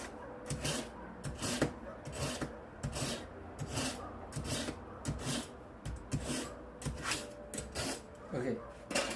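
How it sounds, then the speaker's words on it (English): A kitchen knife is sharpened in a home kitchen with a run of regular rasping strokes, each a short scrape repeated at an even pace, close and moderately loud. "Let's sharpen my knifey knife because she needs to"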